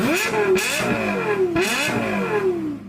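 A Lexus LFA sports car engine revs hard twice in quick succession, its pitch rising and falling with each surge. The sound is loud, close and continuous, with no voices.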